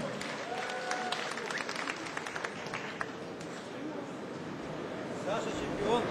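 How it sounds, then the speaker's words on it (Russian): Applause at a kickboxing event greets the referee, faint dense clapping from the crowd mixed with a low voice, fading slightly before a brief rise at the end. "Аплодисменты Александру Наконечному."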